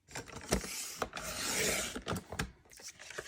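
A 12-inch paper trimmer slices cardstock with a scraping, rasping glide, followed by several short taps and shuffles of paper, close and fairly quiet with no voices.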